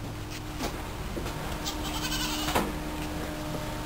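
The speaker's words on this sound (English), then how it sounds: "I'll introduce you to some of the goats." Goats on a blue-themed farm bleat several times at a distance over a steady outdoor background hum, with a few short calls spread across the stretch and no one talking.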